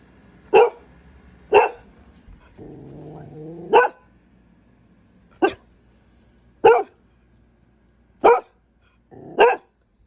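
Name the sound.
dog barking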